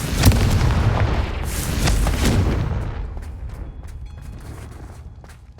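Confringo blasting spells explode in the Hogwarts Legacy video game, a loud, dense burst of booming blasts that rolls on for a few seconds before fading into quieter crackling debris.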